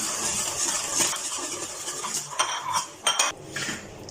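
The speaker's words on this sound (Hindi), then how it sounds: "अब इसको मैं मिक्स कर लूँगी अच्छी तरह से।" A spoon mixes a Marie biscuit and chocolate dessert mixture in a pan before the flame is lit, giving scraping clinks and taps against the metal, with a few sharper knocks toward the end, and no talking.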